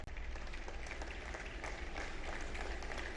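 Applause from an audience, a sustained, even wash of many hands clapping that stays at a steady level and sounds somewhat distant.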